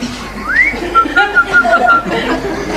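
Whistling in the 1989 Afrikaans cartoon series Orkney Snork Nie: one rising whistle followed by several short, clipped whistled notes, close and fairly loud over light background noise.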